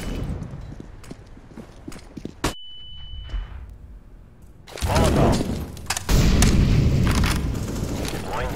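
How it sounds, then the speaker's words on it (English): A flashbang grenade from CS:GO bursts with a sharp bang, followed by a steady ringing tone and then a loud, dense rush of noise from the game. "Flashbang."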